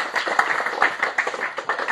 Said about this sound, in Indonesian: Sekali lagi, tepuk tangan yang terbaik buat Tuhan Yesus Kristus.